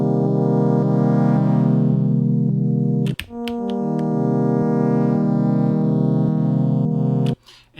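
Sustained synth notes from a Zoom Sampletrak sampler with an LFO on pad level, loud and buzzy with effects, holding a long tone that steps down in pitch after a brief break and cuts off near the end.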